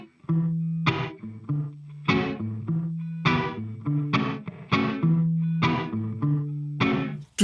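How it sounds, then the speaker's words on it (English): Short punchy notes through a gated convolution reverb on a MOD Dwarf, each hit blooming briefly and then cut off sharply, repeating in a rhythmic pattern roughly every half second with clear gaps between bursts. "Oh, cool, it's like a gated reverb."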